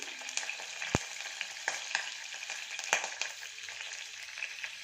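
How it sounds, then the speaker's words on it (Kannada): Cumin, fenugreek, curry leaves and a dried chili crackle in oil alongside chana dal and urad dal for a tempering, a quiet, bright continuous sizzle with scattered sharp pops and a few light stirring clicks. "ಜೀರಿಗೆ ಮೆಂತ್ಯ ಕರಿಬೇವು ಒಂದು ಒಣಮೆಣಸಿನ್ಕಾಯಿ ಇದ್ದೀನಿ ಇವಾಗ ಇದೆಲ್ಲ ಸ್ವಲ್ಪ ಫ್ರೈ ಆಗಲಿ"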